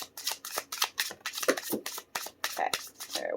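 A stack of tarot cards being shuffled by hand, a quick run of crisp riffling slaps and rubs in an irregular rhythm, close and fairly soft, with no talking.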